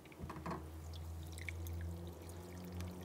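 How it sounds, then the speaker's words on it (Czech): Water pours into a pot in a soft, short trickle and splash near the start, then fades to a faint dribble against a low background hum. "Tak a teď si tam jdeme nalejt z mojí šikovností vodu."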